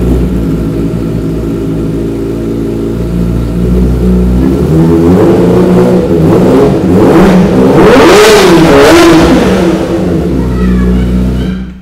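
A used 250cc motorcycle engine starts and idles, then revs hard in several rising blips reaching a loud high-pitched peak before dropping back to idle; close by, no talk.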